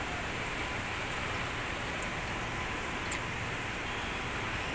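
Heavy rain from typhoon Enteng, a steady dense hiss falling continuously with no pauses, moderately loud and even throughout.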